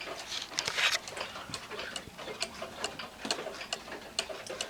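A small one-day hunter cuckoo clock ticks in a steady, even rhythm, close and fairly faint, with light background hiss and no talking.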